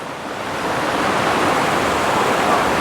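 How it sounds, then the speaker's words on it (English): A river in Jamaica flows in a steady, even rush of water, close and fairly loud, with no voices over it. "Nice river my side"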